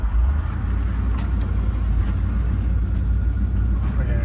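A 1200HP small block Chevy engine idling with a steady, loud low rumble that holds even throughout.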